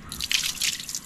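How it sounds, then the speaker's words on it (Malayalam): Water draining out of a cooking pot, a brief close splashing trickle lasting about a second. "വെള്ളം വറ്റിച്ച് കളഞ്ഞു."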